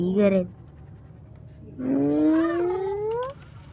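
A cat in The Baby in Yellow video game lets out a drawn-out, wavering yowl after a short earlier cry, loud and close over a low background hum.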